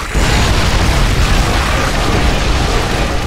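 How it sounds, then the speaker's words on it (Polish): A loud, sustained explosion from StarCraft 2: Wings of Liberty fills the whole stretch, a dense broadband roar with heavy low rumble and no talk over it. "Zaraz wybuchnie!"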